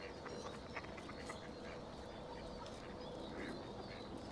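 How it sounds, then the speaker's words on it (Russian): Ducks quack faintly in the distance near a pool, several scattered calls blending into steady, noisy outdoor background, with no talking. "утки."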